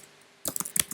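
Quick burst of typing on a computer keyboard while writing notes, about half a dozen crisp close clicks in a fast uneven run after a brief quiet lead-in, with no talk.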